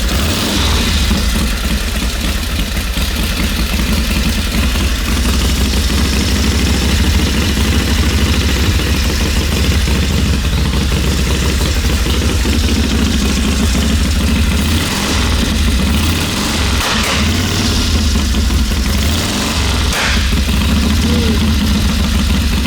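An Indian Chief chopper motorcycle engine idles loudly and close by, a steady, rough, unbroken rumble throughout with no clear pauses.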